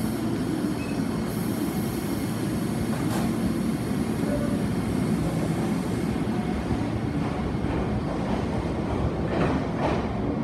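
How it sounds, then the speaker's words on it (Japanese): Train pulling away from a station platform during the weekday morning rush at Matsuyama City Station, a steady close rumble of wheels and running gear with faint squeals and clicks, no voices. "電車が発車します。"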